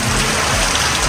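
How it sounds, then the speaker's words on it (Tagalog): Heavy rain on a road trip toward Davao makes a dense, steady hiss and patter that stays loud and unbroken, with no voices in this stretch. "Grabe yung ulan."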